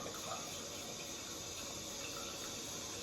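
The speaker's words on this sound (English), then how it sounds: "Hold on, let me get some more hot water. There we go. Fill up my little basin." Hot water runs from a tap into a small basin, a steady, even rush of filling water with no talk over it.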